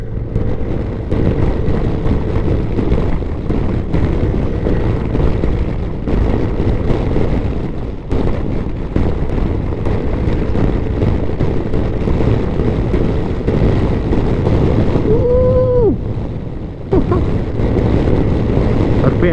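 A Modenas Elegan EX 250 motorcycle climbs a hill road to Fraser Hill, its engine droning steadily and loudly up close, with a brief dip and a shift in pitch near the end.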